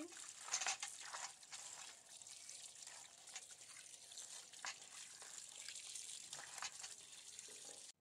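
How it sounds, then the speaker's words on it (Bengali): Running tap water splashes over fish being rinsed in a kitchen sink, a faint, steady trickle broken by soft splashes and clatters. "মাছটা ভালো করে ধুয়ে নিচ্ছি।"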